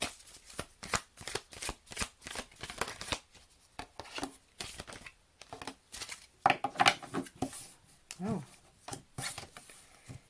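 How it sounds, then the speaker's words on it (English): Tarot cards being shuffled, a rapid run of crisp riffling bursts repeating in quick, uneven rhythm, close up, with a soft voice in places. "I shuffled those cards"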